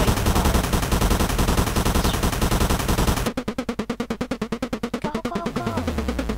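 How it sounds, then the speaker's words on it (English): Rapid gunfire from the video game Icarus Proudbottom, a loud dense rattle of shots that turns into a fast, regular burst of cracks partway through, with no talking. "How come I can hear bullets?"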